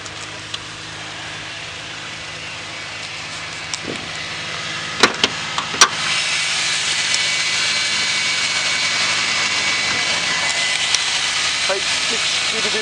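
A Gen 4 Subaru 3.0 EZ30 H6 boxer engine from a 2005 car with a strut brace, running steadily at idle with a low, even hum, a few brief clicks and knocks over it.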